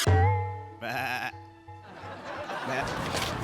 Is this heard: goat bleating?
yes